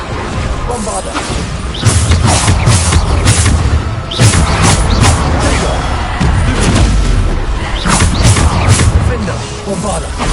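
Repeated Bombarda spell blasts in Hogwarts Legacy, a string of loud booming crashes and thuds bursting one after another over a dense, busy game mix.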